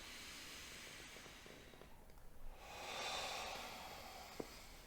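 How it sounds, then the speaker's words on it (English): A person takes big, deep breaths close to the mic, a loud breathy rush of inhaling and exhaling with a brief pause between breaths and a small click near the end. "Your breathing is so loud."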